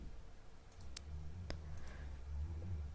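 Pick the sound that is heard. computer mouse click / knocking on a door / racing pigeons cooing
computer mouse click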